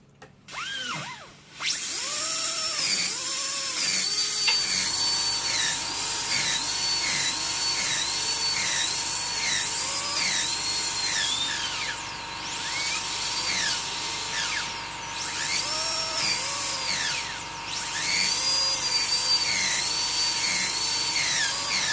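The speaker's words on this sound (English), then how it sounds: "I will use the rugby burr or the white stone for the palatal surface." A high-pitched whining dental drill fitted with a rugby burr or white stone, polishing the palatal surface of a Class 4 composite restoration, runs steadily and close up for about twenty seconds, its pitch wavering slightly.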